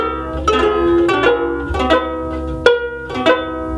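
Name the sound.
custom ukulele with Mahalo neck and Cadbury Roses tin body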